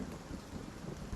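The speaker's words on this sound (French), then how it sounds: "Et encore une fois, le tonnerre qui craque sur vos têtes." Thunder rumbles low and steady through a rainy storm backdrop, a continuous dark roll with a slightly heavier burst near the end, all fairly quiet and with no voices.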